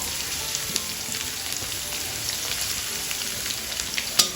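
Garlic frying in oil for Padang-style tauco gives a steady, close sizzle that runs throughout, with faint pops scattered through it and a sharper crackle near the end.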